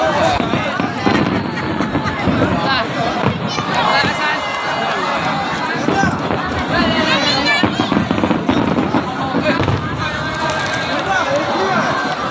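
Fireworks pop and crackle over Tsim Sha Tsui in Hong Kong during Chinese New Year, heard amid a dense, excited crowd with constant chatter and voices throughout.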